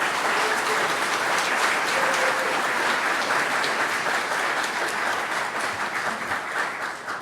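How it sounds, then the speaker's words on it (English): An indoor audience at a city debate event applauds warmly, a dense, steady roar of clapping that holds throughout and tapers slightly at the end. "Please give a warm round of applause for Frances Bula."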